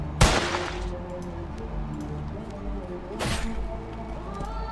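Two loud, sharp revolver gunshots in a video game, about three seconds apart, each with a short ringing tail above a steady backdrop of game music.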